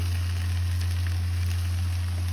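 Fish intestines with brinjal fry on a low flame, a soft steady sizzle under a constant low hum, with no one speaking.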